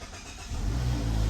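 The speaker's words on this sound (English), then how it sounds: "And we want to hear that engine turn over." A Mazda CX-30 or CX-50 engine cranks and catches on start, a low rumble swelling abruptly halfway through and settling into a close, steady idle.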